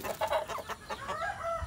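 Close clucking from native chickens, a run of several short calls blending into a steady murmur of softer clucks, with no talk.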